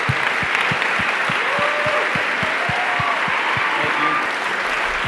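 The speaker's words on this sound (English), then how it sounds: "Let's have a round of applause for Jeff Bezos." Audience applause at a charity gala, a sustained, even wash of clapping from a large indoor crowd that holds steady for the whole stretch.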